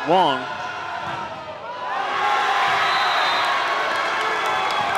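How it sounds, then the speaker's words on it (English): Crowd at a boys' high school volleyball playoff match reacting to a play, a brief shout and whoop followed by a rising roar of cheering and yelling from the stands that holds steady and loud. "The crowd lets Wong hear it after that."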